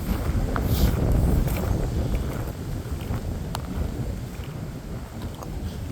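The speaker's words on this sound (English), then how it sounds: "See, that wind's just coming right across there" Wind gusts across a lake beach at a state park, a steady broadband rush that swells loudest early on and then settles into a constant, close roar buffeting the microphone, with no voices.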